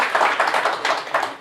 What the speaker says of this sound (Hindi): इनके लिए जोरदार ताली बजाइए।